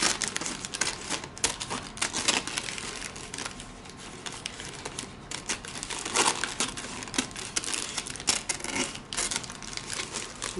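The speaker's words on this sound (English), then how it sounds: "I'm cutting with the scissors." Scissors snip through a ring of a diaper cake at close range, with crisp, irregular clicking and crinkling cuts continuing steadily and no talk.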